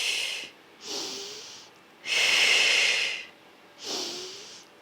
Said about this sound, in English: Let's flow with the breath.